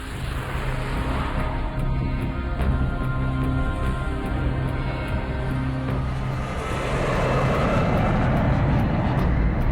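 Two F-100 Super Sabre jets pass overhead in a continuous, loud broadband roar whose rumble thickens and swells toward the end, steady throughout with no talk.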